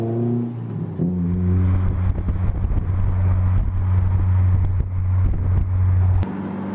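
Honda S2000 cruising at a steady 60 km/h in fourth gear around 3000 rpm, a continuous close engine drone with a constant low hum and mild road noise throughout.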